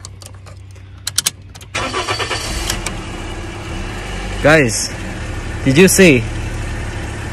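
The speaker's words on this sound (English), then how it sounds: "I just use this one starting the car." A car engine cranks briefly and catches twice in quick succession, loud and close, after someone speaks and keys jangle faintly in the opening seconds.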